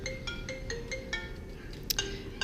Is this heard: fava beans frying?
no